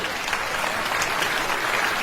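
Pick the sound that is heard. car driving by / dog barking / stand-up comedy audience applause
stand-up comedy audience applause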